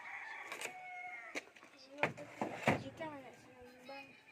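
Chickens cluck in short bursts near a farmyard enclosure while a rooster crows, with intermittent fowl calls and a voice speaking briefly among them.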